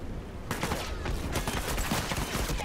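Rapid gunfire from an Uncharted 4 multiplayer match, with dense overlapping bursts of shots that keep up steadily for most of the stretch after a brief quieter start.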